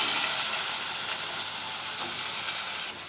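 Cumin, fenugreek and onion fry in oil with a steady, close sizzling hiss and faint crackles, a clunk at the very end, no speech.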